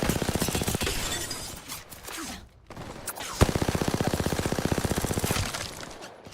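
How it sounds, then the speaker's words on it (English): Video game gunfire strikes at a player driving past: scattered loud shots, then a long rapid automatic burst of evenly spaced cracks that fades out. "They tried to shoot me as I drove past them."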